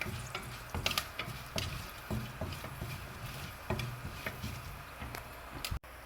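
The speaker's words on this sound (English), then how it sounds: "Once this is done, I am adding Fenugreek seeds." Half a teaspoon of fenugreek seeds crackle and sizzle in a hot pan for a yellow pumpkin and lentil curry, a steady frying hiss broken by sharp pops and the occasional clink of a stirring spoon, close and moderately quiet.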